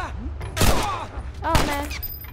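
Gunfire in The Last of Us: two sharp, loud shots about a second apart, with a voice speaking between them.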